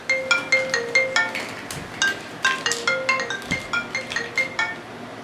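A phone ringtone for an incoming call, a repeating bright chiming tune with regular bursts, fairly close and clear, playing alone.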